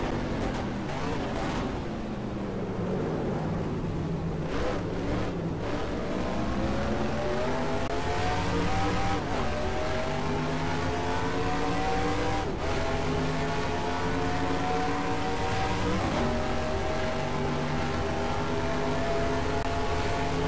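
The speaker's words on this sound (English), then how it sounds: "You got a slow car on the left." Race cars running on a track, a continuous loud engine drone with rising and falling pitch sweeps as cars accelerate and pass, steady throughout with no talk.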